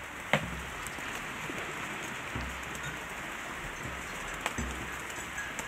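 Rain falls steadily on a metal roof sheet over an outdoor cooking spot in Guatemala, a soft continuous patter with a few sharper drops standing out.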